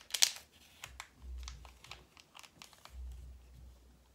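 Paper Valentine's card being folded by hand, with a burst of crisp crinkling at the start and then softer creasing rustles and taps spread over a few seconds, close and quiet, with no talking.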